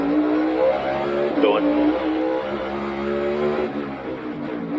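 A NASCAR Cup Series race car roars through a qualifying lap, engine note loud and sustained with a rising shift partway, while commentators talk over it.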